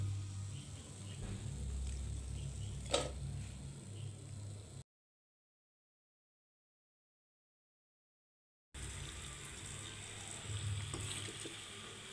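Amaranth leaf pakodas deep-fry in hot oil with a steady, close sizzling hiss and occasional pops, broken by a few seconds of complete silence before the frying resumes.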